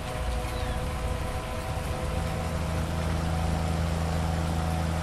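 Rain falling in Farming Simulator 19, a steady dense hiss of rainfall with a low engine hum underneath, constant and even throughout, no talk.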